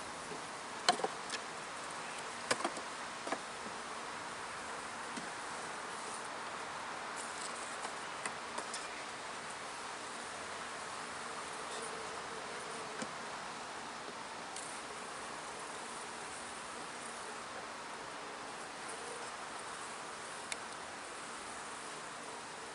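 Honeybees buzz faintly and steadily around a beehive outdoors, a soft continuous hum with a few scattered ticks and light knocks near the start.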